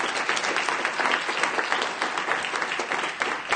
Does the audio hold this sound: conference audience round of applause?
yes